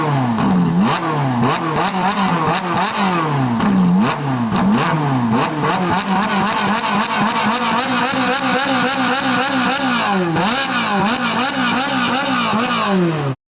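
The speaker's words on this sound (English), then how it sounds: "The naturally aspirated engine sounds so good." Ferrari 458 with a naturally aspirated engine and upgraded Novitec exhaust revs repeatedly, loud and close, its pitch sweeping up and down in a continuous series of sharp, high-pitched bursts.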